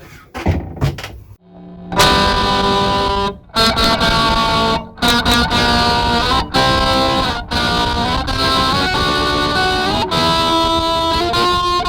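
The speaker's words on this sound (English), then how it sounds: "I would just run my finger up and down the fretboard and it would sound something like this." Untrained electric guitar playing with a finger run up and down the fretboard, recorded on a boombox cassette recorder: loud, distorted sliding notes and chaotic strums after a few scattered opening plucks, with abrupt stops and restarts.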